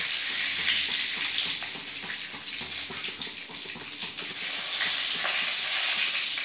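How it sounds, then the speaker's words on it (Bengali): Bay leaf and cumin seeds hit hot oil for a Bengali lau chingri (bottle gourd and prawn) dish, giving a loud, steady, close sizzle that crackles without a break and swells slightly near the end. No one speaks. "এবারে আমি তেজপাতা দিয়ে দিচ্ছি, জিরে ফোড়ন একটু দিচ্ছি"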